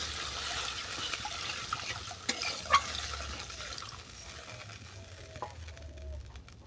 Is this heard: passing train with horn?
no